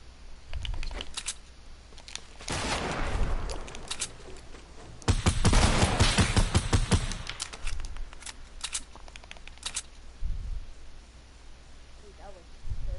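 The Flint-Knock gun in a shooter video game fires in bursts of sharp, rapid cracks, with denser clusters around the middle and a few single shots later. Players talk over the gunfire.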